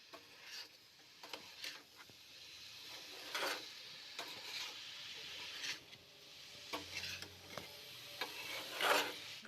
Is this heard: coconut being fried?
yes